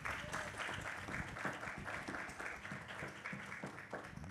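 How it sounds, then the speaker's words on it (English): Audience applause for panelists at a Columbus City Council community briefing, fairly quiet, steady clapping from a modest crowd with individual claps audible in the mix. "A round of applause for our panelists,"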